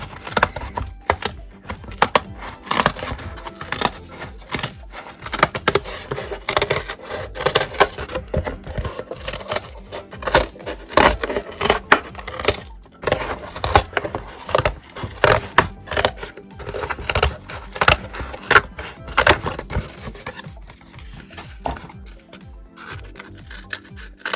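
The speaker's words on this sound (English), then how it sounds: "there's one of my circles, and I'll cut out the next one" Scissors snip out fabric circles for pom poms, giving a close, steady run of crisp cutting and rustling fabric with short pauses between strokes and no voices.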